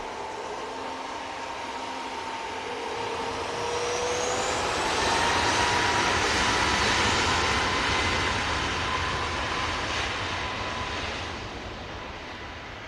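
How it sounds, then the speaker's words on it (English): A Ryanair jet airliner takes off from Manchester Airport, its engine roar building to a loud peak midway and then easing slightly, with faint rising and falling whine tones and no voices. "Ryanair about to rotate."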